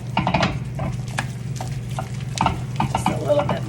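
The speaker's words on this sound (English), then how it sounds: "Just a little bit more stirring." Thick gougère choux dough stirred in a pan, with repeated wet slapping and scraping strokes in an irregular rhythm, close and fairly loud over a constant low hum.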